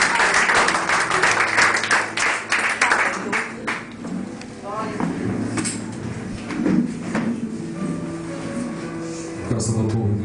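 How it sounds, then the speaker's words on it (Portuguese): A church congregation claps to welcome the preacher, a burst of loud applause that quickly tapers off into scattered claps, with voices and a soft sung tone underneath. "Receba o servo do Senhor com palmas da igreja."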